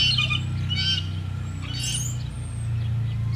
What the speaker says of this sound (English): these are the bird sounds that I record for some of my tracks